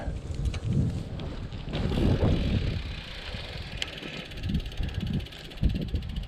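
Riding a handmade Columbus Thron bicycle outdoors, with buffeting wind noise rumbling over the microphone in uneven gusts and faint rolling and mechanical sounds of the bike beneath, moderately loud throughout.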